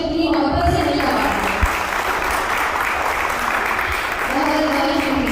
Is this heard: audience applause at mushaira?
yes